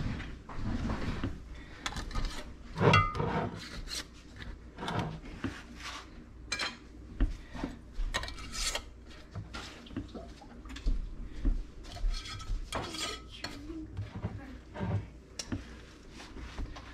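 Glass maple syrup jars capped one after another with dry lids, giving a string of close, light clicks, clinks and small metallic twists scattered irregularly over a quiet room.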